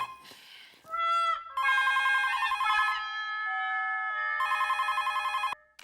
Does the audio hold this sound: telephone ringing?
yes